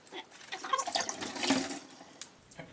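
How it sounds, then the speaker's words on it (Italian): Glass beer bottles rinsed under running tap water while bottling a home-brewed Premium Lager kit, a steady close splashing stream with gurgling and a few clinks of glass. "gli do un'altra sciacquata con l'acqua, diciamo, corrente"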